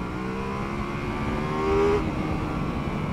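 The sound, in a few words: Ducati Multistrada V4S motorcycle engine accelerating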